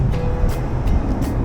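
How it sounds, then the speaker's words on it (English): Steady roadside traffic roar near junction 20 of the M1 motorway, a dense continuous rumble of passing vehicles with faint swooshes, close and loud. "traffic noise is quite high on this one"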